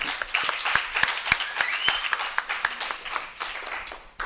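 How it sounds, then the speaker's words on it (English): Audience applause at a Mother Language Day event, a few seconds of steady clapping from a crowd with sharp individual claps standing out, tapering off toward the end. "Can we please give them a round of applause?"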